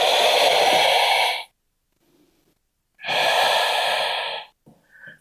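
Deep breathing during a yoga flow, two long loud airy breaths about a second and a half each with a pause between, heard up close, followed by a few faint short sounds.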